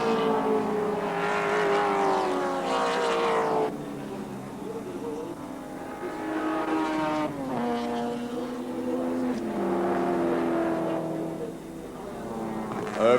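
Group C touring cars racing at Wanneroo Raceway in 1984, engines droning and rising and falling in pitch as cars sweep past, with a commentator talking over the continuous racing noise.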